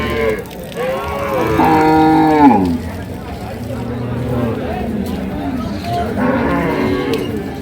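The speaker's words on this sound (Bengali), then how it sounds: "আরও কিছু গরু আছে পাশে" Cattle at a village market in Dinajpur, Bangladesh, where dairy cows and calves are sold, give long, loud, close moos, one after another, over a background of human chatter and crowd noise.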